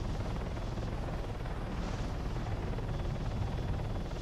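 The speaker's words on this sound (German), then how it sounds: "Oh, da ist gerade ein Heli, der wird Adelinsert oder der stürzt halt ab." A helicopter in the military game Arma 3 flies nearby with a steady, loud, dense rotor and engine roar that holds constant throughout, with no talk over it.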